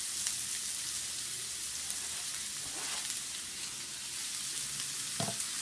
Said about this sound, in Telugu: ఇప్పుడు వీటిని బాగా అన్ని వైపులు కూడా పోపులు కలిసే విధంగా మనం ఈ ముక్కల్ని బాగా కలుపుకుంటూ ఉండాలి